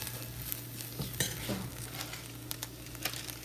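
Mung beans roasting in a pan until crispy give a soft, steady sizzle and crackle, with occasional clinks and scrapes of stirring, quiet and without talk.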